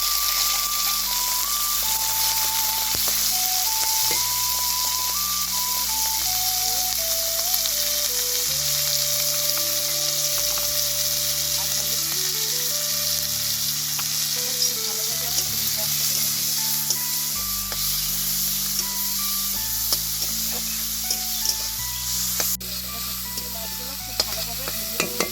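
Shrimp frying in a pan alongside well-toasted dried red chillies in a village kitchen, a continuous hissing sizzle with faint stirring under steady background music throughout.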